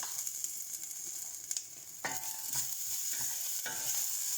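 Spices for mixed dal stirred in a hot pan: a soft sizzle runs beneath a few distinct scraping strokes of a spoon against the pan, close and fairly quiet, with no one talking.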